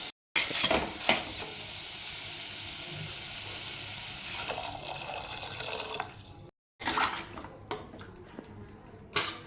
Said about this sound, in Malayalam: ഒരു രണ്ട് കപ്പ് വെള്ളം ചേർത്ത് കൊടുക്കും